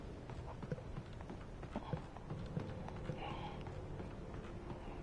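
Horse hooves clip-clop through the Alan Wake Remastered video game, a steady run of soft thuds under constant game ambience, with faint background sounds and no clear talk.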